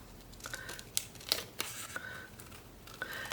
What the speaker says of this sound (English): Maybe I'll cut the border off.